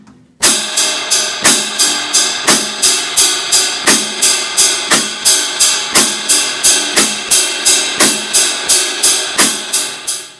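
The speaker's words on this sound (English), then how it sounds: "So the hands together will sound like this." A steady drum kit beat with both hands together: evenly spaced hi-hat or cymbal strokes with periodic louder snare hits, loud and close, played alone at a steady tempo for a basic rock pattern.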